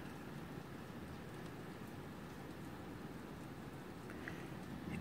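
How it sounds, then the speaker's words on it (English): Steady, dense rainfall hisses continuously, a constant wash of drops with no pauses or voices. "so you could see really how hard it's raining out here."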